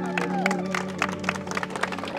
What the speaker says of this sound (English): Come on, let's give them applause.